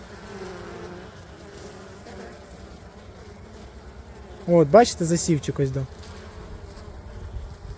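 A dense swarm of honey bees buzzes continuously close by on a brood frame, while someone speaks briefly partway through over the humming.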